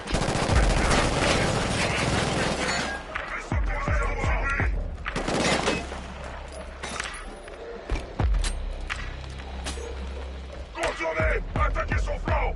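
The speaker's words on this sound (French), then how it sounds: "J'entends des tirs dans le secteur 4." Gunfire in the video game Killzone, with bursts of rapid automatic shots and single cracks in several volleys, loud and close, mixed with shouted voices and battle noise.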